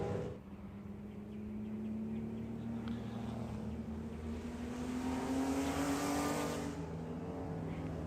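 Porsche club race cars roar along the front straightaway at Watkins Glen, engine note rising in pitch as they accelerate past in a sustained, fairly distant rush of motor noise.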